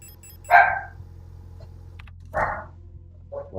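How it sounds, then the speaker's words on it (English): Indoor dogs bark in short separate bursts, three distinct yaps spaced across a quiet room, moderately loud and close. "or the dogs are just going crazy at probably nothing"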